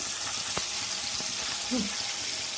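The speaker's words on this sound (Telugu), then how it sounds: "ఇప్పుడు ఆయిల్ వేసుకొని పచ్చిమిర్చి, జీలకర్ర, టమాటా," Green chilies, cumin and tomato frying in hot oil for a cucumber chutney, a steady broadband sizzle with a couple of faint clicks, close and alone without talk.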